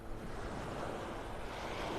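Ocean surf at the beach at Delnor-Wiggins Pass in North Naples, Florida, as the tide starts coming in: a steady, soft wash of waves with wind hiss and no distinct breaks.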